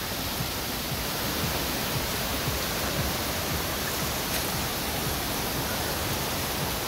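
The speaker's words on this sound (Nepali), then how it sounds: "ब्युटिफुल झर्ना।" A waterfall roars as a steady, dense broadband rush of falling water, constant and close, with no other sounds breaking through.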